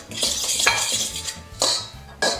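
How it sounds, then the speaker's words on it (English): A fork stirs and mixes in a bowl, giving quick clinking scrapes and taps in short bursts, close and fairly loud, with no talk. "Mix it in a bowl. We'll use this fork."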